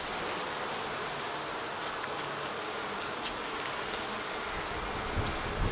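Honeybees buzz steadily throughout a beehive inspection, a dense, continuous hum from a hive frame with plenty of bees and a large section of honey, fairly close with no talking.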